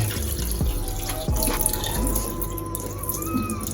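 Running tap water splashes into a bowl as meat is rinsed, a steady close gush with small sloshes and drips.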